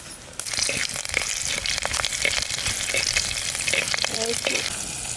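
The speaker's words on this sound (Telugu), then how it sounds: "కొంచెం నూనె కాగినాక ఆవాలు జీలకర్ర మెంతాలు ధనియాలు అన్ని తాల్పుకి వేసుకున్నాం కదా" Mustard, cumin, fenugreek and coriander seeds with garlic fry in hot oil in a village kitchen, a steady close sizzle with crackles and occasional stirring scrapes throughout.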